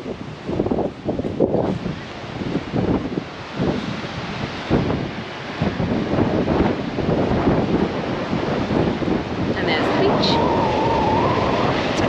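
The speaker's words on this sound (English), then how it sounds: "the weather's pretty windy here apparently" Gusty wind buffets the microphone over rolling surf on a stormy Fraser Island beach, loud and roaring throughout, with a brief tonal whistle near the end.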